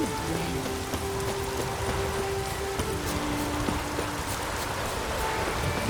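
Rain falls in the video game Witcher 3, a steady, dense patter on surfaces that runs throughout at moderate loudness, with some faint tonal game sounds and brief voice underneath.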